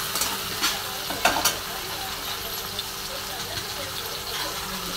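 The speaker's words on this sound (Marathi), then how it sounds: "एक बटाटा बघा, छान असं मिक्स करून घेणार" A diced potato being stirred into chillies frying in hot oil in a pan, with steady sizzling, a few clattering scrapes of the spoon early on, and fairly close, even loudness.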